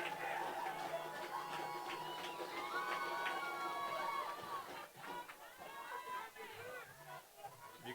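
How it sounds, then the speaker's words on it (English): Crowd cheering and roaring at a California high school championship football game between the Buckeyes and Mid Valley Wolfpack after a fumble turnover, a sustained swell of distant voices and shouts under a busy stadium ambience. "You can hear the crowd going absolutely nuts on that turnover there"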